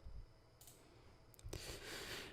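A computer mouse gives a few faint, crisp clicks, including a close pair near the end, over a quiet low background hum.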